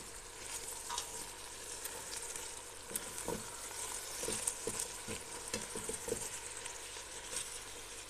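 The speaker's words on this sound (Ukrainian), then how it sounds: "як тільки цибуля стає прозорою, додаємо морку. І все гарно перемішуємо" Carrots stirred into onions frying in a pan for zucchini caviar, with a steady close sizzle and scattered scrapes and clinks of the spoon against the pan, no voices.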